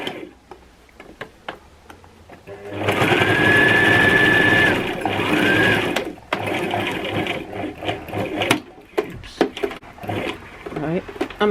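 A domestic sewing machine runs up a sleeve seam while refashioning a skirt into a dress, giving a steady close mechanical whir for several seconds before it slows, followed by light ticks and handling of the fabric.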